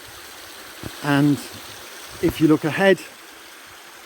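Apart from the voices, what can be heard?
Blakeley Brook stream flowing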